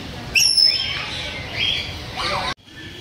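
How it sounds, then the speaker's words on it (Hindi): An African grey parrot at Gwalior zoo gives a few sharp, whistling squawks and chattering calls, fairly close and loud, then cuts off abruptly near the end. "ये है गागरोनी तोता देखिए गागरोनी तोता बोलते इनको अफ्रीकन ग्रे पेरेट बोलते हैं"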